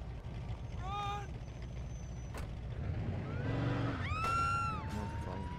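Vehicle engine and skidding tires from a police-chase video game, with revving sweeps, a brief squeal and mechanical hiss over a steady rumbling background, fairly loud and close, without clear talk.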